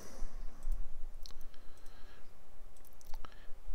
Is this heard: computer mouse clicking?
yes